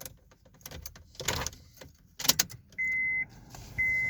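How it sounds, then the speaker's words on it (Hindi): A Honda City CNG car is switched on from inside the cabin: clicks and key jangle, followed by two steady electronic warning chimes from the dashboard, close and clear. "इस गाड़ी को ऑन कर लेते हैं।"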